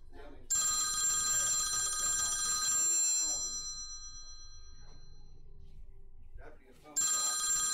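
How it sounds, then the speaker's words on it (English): A telephone rings loud and close in a long burst, then falls quiet before ringing again at the end, with people talking under and between the rings. "That'd be a phone call."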